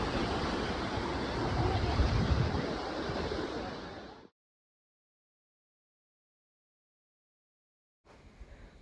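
Ocean surf at Malpe beach rolls as a loud, broad wash of breaking waves mixed with wind buffeting the microphone for about four seconds, then cuts to silence before a brief faint return.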